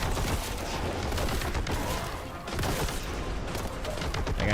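Rapid, dense boltgun fire against heretics and demons in the retro shooter Boltgun, a sustained loud barrage of booming shots with crashing impacts that runs almost without break from start to finish.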